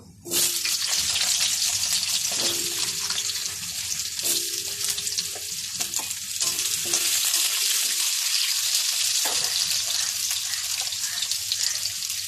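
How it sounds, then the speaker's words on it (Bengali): Cut potatoes dropped into a pan of hot oil with cumin, a loud steady sizzle and hiss that runs without a break, with faint scraping and stirring knocks underneath. "এবার আমি কেটে রাখা আলুগুলো দিয়ে দেব।"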